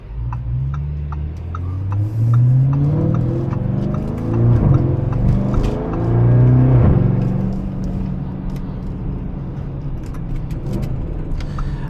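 A Novitec widebody Lamborghini Urus with a Gintani Stage 2 tune pulls off in manual mode, its engine note rising loud and close through steady acceleration with a deep, continuous rumble.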